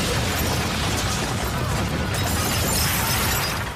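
A massive explosion caused by a gas leak in a joinery, heard as a loud, continuous roaring blast of debris and rumble that holds steady for several seconds before easing slightly at the end.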